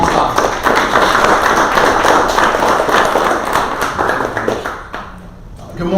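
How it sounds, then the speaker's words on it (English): Audience applause at a local business presentation meeting, steady close clapping from a modest group of people that fades out near the end as a voice begins. "let's give a good round of applause for Jared"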